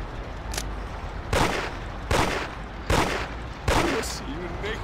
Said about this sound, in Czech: a střílí tady po tobě někdo,